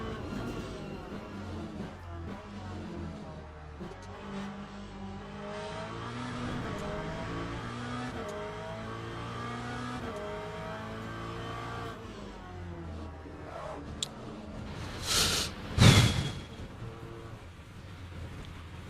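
Ford race car engine in Le Mans Ultimate revving and shifting through gears, a steady loud mechanical drone with rising and falling pitch, ending in a couple of sharp bursts near the end.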